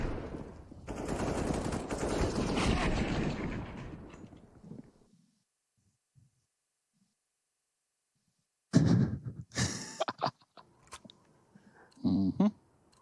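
Gunfire rattles in a Counter-Strike match on the Nuke map, with a sustained burst of rapid automatic fire first, then silence, then several sharp, close shots and short bursts later on.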